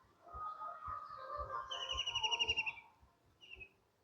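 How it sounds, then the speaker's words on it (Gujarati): Several birds, a parrot among them, call around a rural village home: bright whistles and chirps in quick repeated bursts, fairly close, with soft thumps underneath and no talking. "આ બાજુ અલગ અલગ પક્ષીઓના અવાજ આવે છે. પોપટ છે"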